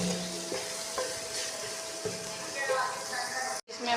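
Browned onions with spice masala are stirred in a hot pan, a steady sizzle with scraping spoon strokes, close and moderately loud, ending in a brief cutoff.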